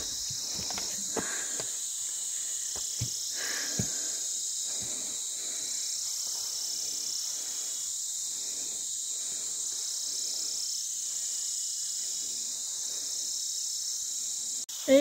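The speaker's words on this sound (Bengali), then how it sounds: "ঝিঝি পোকা ডাকছে" Crickets drone steadily in a pine forest on a trekking trail near Kausani, a continuous high shrill pulsing gently throughout, with soft footsteps on the path and a few brief knocks close by.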